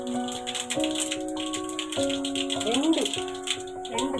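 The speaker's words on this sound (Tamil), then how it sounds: "அப்புறமா நல்லா எண்ணெய் கொதிச்சிருச்சு. கொஞ்சமாக கடுகு போட்டுக்கலாம்." Mustard seeds splutter and crackle in hot oil in a home kitchen, a steady rattling patter under someone talking with a tune playing in the background.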